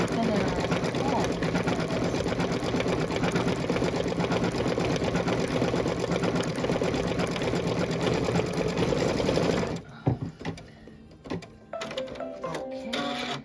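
A home embroidery machine stitches a Kimberbell Be Mine design with a fast, steady mechanical chatter for about ten seconds, then falls to scattered clicks and taps while someone talks.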